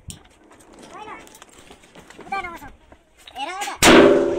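A firecracker bursts with a single loud, sharp bang near the end during the Tihar festival, after lively voices talking and calling out close by.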